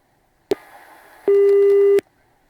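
A telephone busy tone sounds on an unconnected call: a click, a faint hum, then a single loud steady beep held for under a second before cutting off with another click.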